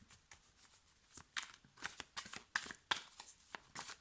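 Dixit picture cards being shuffled by hand for a tarot-style reading, a quiet close run of soft riffling and slapping card sounds in irregular bursts.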